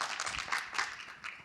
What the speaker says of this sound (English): If you join me in giving a round of applause.